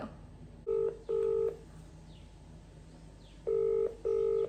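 Touch-tone keypad beeps sound as a phone dials out, four short, clear tones in two pairs separated by a pause, over faint background hiss.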